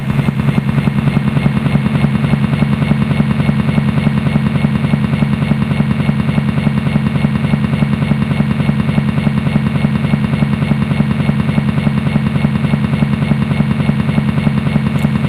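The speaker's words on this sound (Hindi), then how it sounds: "लंदन की बैठक में हेलीकॉप्टर उतर रहा है।" A helicopter lands as a sound effect: loud, continuous rotor thumping with a fast, even chop and a heavy engine drone that holds steady for the whole stretch, with no voices.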